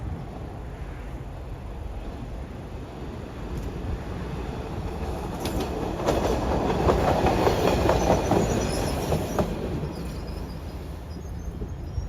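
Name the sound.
Kawasaki double-ended trolley on Sharon Hill line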